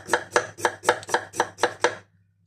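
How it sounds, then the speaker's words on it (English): A knife slices through Kerr Pink potatoes on a cutting board in eight evenly spaced, crisp thunks, close and clear, before the cutting stops and the room falls quiet. "just cut a couple of slices off at the bottom, flatten it"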